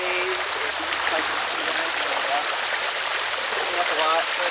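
Floodwater rushes over a flooded road in a steady, noisy wash of gurgling and splashing that stays close and constant throughout.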